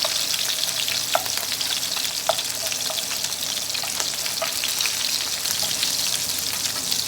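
Meatballs dredged in flour brown in a hot pan, a steady close sizzle and crackle of frying fat with occasional soft clicks of a spoon turning them, no voices.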